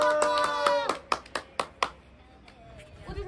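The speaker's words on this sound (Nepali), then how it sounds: "उहाँको लागि जोरदार ताली बजाउँ सबैले" A few sharp claps at a home Mother's Day gathering, about six distinct hits spaced irregularly after a voice, fairly close, with a voice and talk around them.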